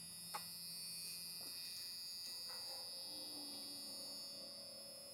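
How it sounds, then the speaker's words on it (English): A car's key warning buzzer drones continuously with a steady electronic tone, with faint intermittent clicks and tones layered over it, at a moderate, unchanging level. "get ready for an annoying key buzzer"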